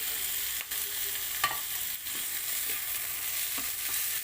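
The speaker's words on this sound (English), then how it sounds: "So we have to cook our tomato until it becomes soft or mushy." Tomatoes sauté in a pan for paneer butter masala, with a constant hissing sizzle and scattered stirring scrapes and taps as the spoon moves through them.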